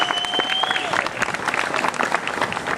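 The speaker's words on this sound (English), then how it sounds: "I want to give a big round of applause for Randy Hall" An audience at a museum anniversary fiesta claps loudly and steadily, dense applause filling the room with a few voices and a whistle-like tone mixed in.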